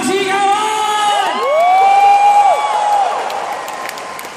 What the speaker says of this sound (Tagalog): Lahat ng payaman, pumalakpak ng may kasamang sigawan!